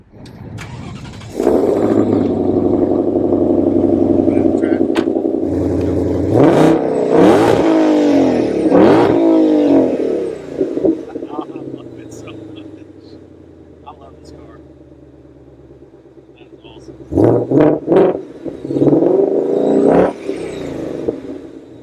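A 2006 Ford GT's supercharged engine fires up and is revved in several hard blips. The loud, close roar rises and falls, drops back to a low idle, then swells again in a second round of revs.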